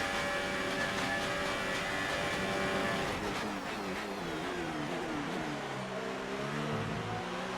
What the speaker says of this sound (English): that Mercedes engine is so fast in a straight line